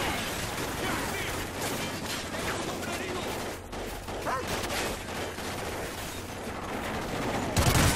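Gunfire from a Call of Duty Ghosts campaign battle rattles in dense, continuous bursts with scattered booms and mechanical clatter, loud and busy throughout, with no voice over it.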